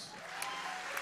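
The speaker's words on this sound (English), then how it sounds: "can you please clap for yourselves?" A church congregation at a Holy Ghost service claps for itself in a brief, soft burst of applause, steady and somewhat distant.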